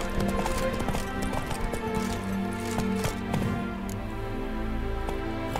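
Roach the horse's hooves clip-clop steadily at a walking rhythm in The Witcher 3, under faint game ambience and background music.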